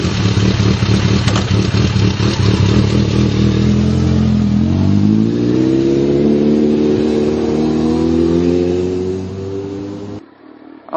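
A motorcycle with Ride-On tire sealant in both tires is ridden, its engine loud and close, revving and accelerating with rising pitch and steady roar before cutting off near the end.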